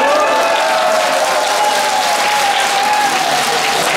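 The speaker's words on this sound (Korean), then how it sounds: "머리 위로 손 올리고 우아하는 함성으로 박수 한번 쳐주시겠습니까?" A theater audience at a senior singing contest opening claps with hands raised and cheers loudly, a thick continuous roar of applause and whooping that stays at full strength throughout.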